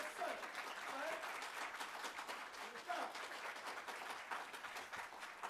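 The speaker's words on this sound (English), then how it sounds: "let's give him a round of applause" An audience at the National Reparations Convention 2023 in Atlanta claps steadily for several seconds, a soft, even patter of applause heard from some distance, with faint voices mixed in.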